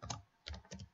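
Close keystrokes on a computer keyboard while writing VBA code in Excel, clicking in three short bursts: a cluster near the start and two more in the second half, with no voices.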